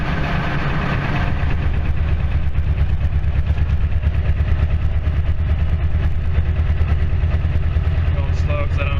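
A 1968 Datsun 2000 engine drones at low revs while driving slowly on a motorway, a loud, steady throbbing pulse close by with someone talking over it.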